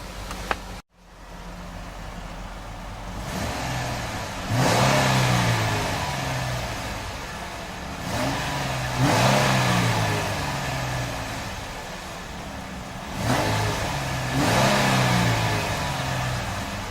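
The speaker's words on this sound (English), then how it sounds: "It's a hefty engine note from that new Pentastar." A 2012 Jeep Wrangler Unlimited's Pentastar engine revs up three times in a row from idle, each deep rising roar held briefly before dropping back down.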